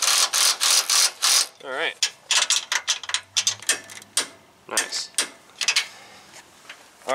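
A ratchet wrench tightens a nut during a 2.5-inch ToyTec lift install on a truck, clicking in quick repeated bursts close up, with brief pauses and some metallic clanks between pulls.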